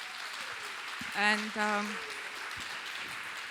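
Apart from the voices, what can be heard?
audience applause for panelists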